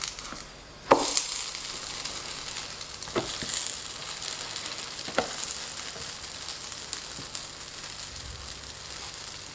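Chive-filled pancake pan-frying in oil under a lid, a steady close sizzle with a few sharp clicks and taps over the top and no talking.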